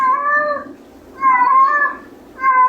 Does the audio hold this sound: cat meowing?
yes